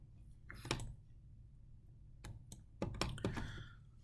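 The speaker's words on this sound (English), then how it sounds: "So let me double click on this." Sharp, close computer mouse clicks in a quiet room, including quick paired clicks of a double click, with scattered other clicks and no talk.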